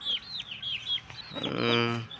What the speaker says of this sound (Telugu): మా దగ్గర ఉన్నటువంటి కోడి పుంజులను చూపిస్తాను